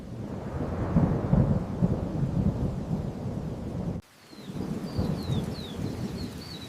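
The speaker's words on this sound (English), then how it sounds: "Finally, the rain arrived." A thunderstorm rumbles with deep rolling thunder over steady heavy rain, a sudden break then renewed downpour with faint birdsong high above.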